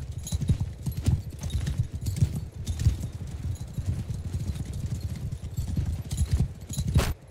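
Cavalry horses' hooves in Mount & Blade 2: Bannerlord, a steady rapid clip-clop of many galloping mounts, close and continuous throughout with a snort or whinny near the end.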